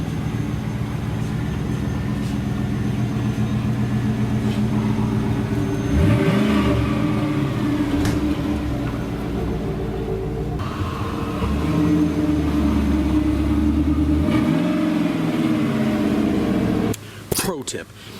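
A car passes by twice, its engine hum rising as it nears and sweeping down as it moves away, over a steady bed of road and engine noise.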